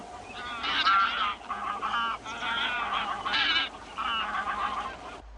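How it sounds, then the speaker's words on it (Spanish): A greylag goose honks repeatedly in loud, nasal calls from the dunes of Doñana, several bursts in quick succession, close by with no talking. "contemplado ahora por el viejo ganso desde lo alto de la duna"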